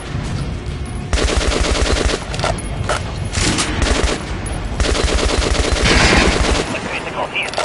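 Rapid automatic gunfire in the shooter Metro: Last Light Redux, aimed at an armored enemy: loud, close bursts of sustained rattling fire with brief pauses between volleys, plus clinking impacts.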